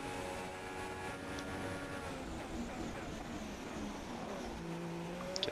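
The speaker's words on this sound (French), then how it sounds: "Derrière, il y a Ocon qui revient avec son DRS" Formula 1 car engine from the F1 2016 racing game at the Sochi Grand Prix, a steady buzzing drone that shifts pitch as a car closes in with DRS open, fairly quiet with commentary-style talk faintly underneath.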